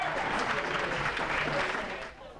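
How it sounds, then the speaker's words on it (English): A crowd of fans in Aggieville, Manhattan, cheers and claps for the Kansas City Royals during the postseason, a steady dense roar of applause and voices that fades slightly at the end. "fans are cheering for a team that's different than their usual"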